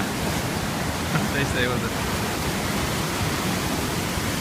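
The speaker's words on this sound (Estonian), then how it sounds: "seda kanalit mööda siis lööb üles päris võimsa duši sinna" Heavy ocean swell surges up through a rock channel on the Australian coast, a loud, continuous roar of rushing water with a brief voice speaking over it.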